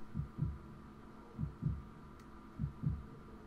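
Heartbeat sound effect in episode 14 of the anime Baccano!, three evenly spaced double thumps, low and deep, steady and alone over a faint hum.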